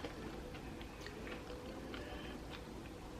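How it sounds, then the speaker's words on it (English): Someone chews a soft caramel cookie close to the microphone, making quiet, repeated moist crunching and smacking sounds in an irregular rhythm over a low background hiss. "gotta hear me chewing"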